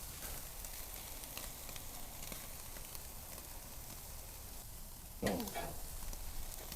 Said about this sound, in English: we're going to get these seared off on both sides